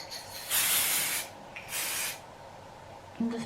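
Two short hissing bursts from an aerosol can of Not Your Mother's hair texture spray, close up. The first burst is longer than the second, with quiet pauses between.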